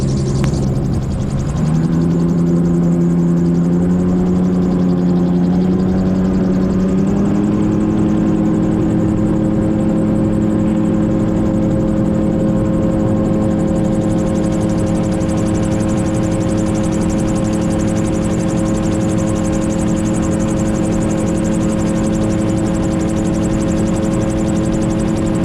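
A steady, droning float plane propeller engine runs close and loud over still reservoir water, its pitch rising once early on and then holding level.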